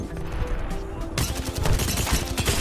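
Rapid gunfire in the Apex Legends video game, with dense bursts of shots that grow louder and sharper partway through.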